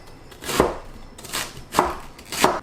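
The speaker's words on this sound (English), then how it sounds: "I'm going to cut the cabbage into strips." A kitchen knife chops a cabbage into fairly large strips for an Asian-style chicken and vegetable noodle dish. Four crisp, evenly spaced chops sound close and clear, with no talking.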